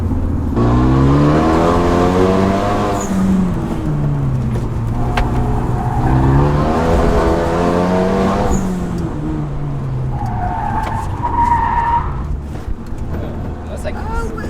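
Renault Mégane 3 RS Trophy-R in race mode sliding on track, its engine droning loud and close with rising and falling pitch as the car slips, a voice talking over it throughout.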